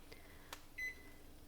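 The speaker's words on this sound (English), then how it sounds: "That's my microwave. Tell me my rice is done." A single microwave oven beep rings out clearly as rice finishes cooking, a short bright tone over quiet room hiss, preceded by a couple of faint clicks.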